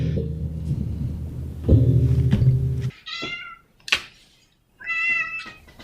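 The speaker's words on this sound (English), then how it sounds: "Is that a cat?" A cat gives two clear meows in a row after a stretch of low rumbling and a couple of knocks, the cries close and distinct.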